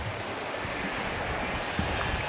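A stream flows beside a woodland trail near Ben Nevis in Scotland, giving a steady, continuous wash of running water close by, with no one speaking.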